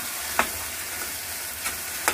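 A spoon stirs boiled potatoes into a spice mix in a pan for patal dorma, producing a low sizzle with a few sharp scrapes and clinks. The sound is fairly quiet and close.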